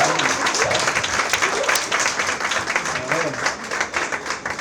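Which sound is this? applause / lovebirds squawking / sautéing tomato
applause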